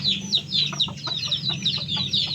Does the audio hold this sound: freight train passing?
no